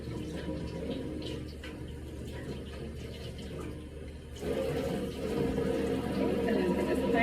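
Water from a hose running steadily as shampoo is rinsed out of a client's hair, a continuous close rushing splash that grows fuller partway through.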